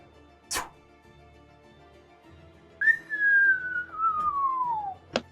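A person whistles a long, smoothly descending tone imitating something falling, set between brief sharp sounds and nothing else much around it.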